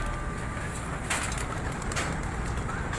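Racing pigeons released at a club event coo steadily outdoors, with a brief rush of flapping wings partway through, over a constant broadband background hiss.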